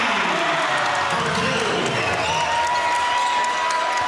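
Basketball crowd at a high school game between Wilsonville and West Salem, a steady loud roar of cheering and applause filling the gym after a nice move, with a faint sneaker squeak and commentators talking over it.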